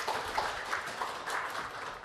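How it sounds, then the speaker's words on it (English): An audience at an EU–Norway conference on green value chains applauds a speaker, a dense, steady wash of clapping from many hands, moderately distant and continuous for the whole stretch. "a very warm round of applause for this gentleman"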